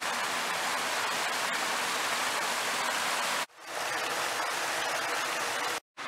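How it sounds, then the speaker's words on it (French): A small mini waterfall at a home entrance sends out a steady, close rushing wash of falling water, continuous and fairly loud, with two brief breaks near the end. "Avec la mini cascade juste là, qui est vraiment toute mignonne."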